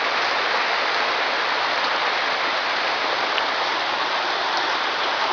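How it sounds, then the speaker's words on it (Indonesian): Heavy rain pours steadily as a dense, even hiss with no letup, close and loud throughout. "hujan deras"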